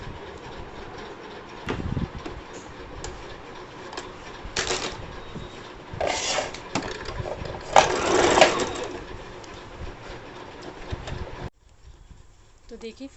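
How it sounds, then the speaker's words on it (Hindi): A sewing machine stitching the edge of a salwar runs in bursts of rapid mechanical whirring and clatter, close and steady, with short pauses between runs. "तो इस सिलाई को हम ऊपर की तरफ रख कर यहाँ सिलाई लगा देते हैं"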